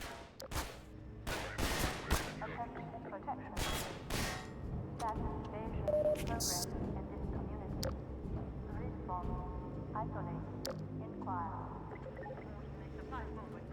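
Rapid pistol shots fired in Half-Life 2, a quick volley of sharp cracks early on, then sparser reports over steady game ambience and clatter.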